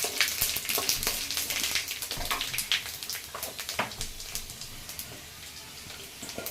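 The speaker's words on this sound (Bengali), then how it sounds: "কড়াই গরম হয়ে গেছে তার মধ্যে তেজপাতা আর শুকনো লঙ্কা দিয়ে দেওয়া হচ্ছে" Bay leaves and dried chillies sizzle in hot oil in a wok, with close, sharp crackles and pops over a continuous frying hiss, fading a little toward the end.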